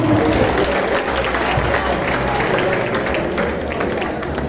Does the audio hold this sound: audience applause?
yes